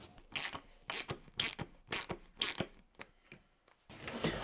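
Brass screws driven by hand with a screwdriver into a wooden chisel rack, giving a series of close, repeated ratcheting creaks and scrapes in short bursts, with no talk.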